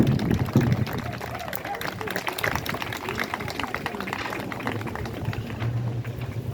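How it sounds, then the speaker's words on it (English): A crowd applauds at a city event proclaiming Indigenous Peoples Day, with sustained, dense clapping from many people throughout and voices audible underneath. "round of applause for all of you"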